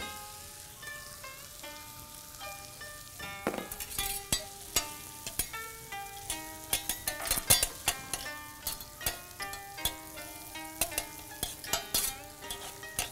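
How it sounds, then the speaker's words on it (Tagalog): Garlic chips frying in oil while Japanese dishes are cooked: a busy crackling sizzle with frequent utensil clinks and stirring knocks, close and lively, mixed under steady background music. "Oil. Now the garlic chips."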